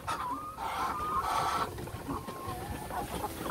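Cream-coloured laying hens cluck and cackle nearby in a continuous chorus of overlapping calls over a noisy yard background, with no talking.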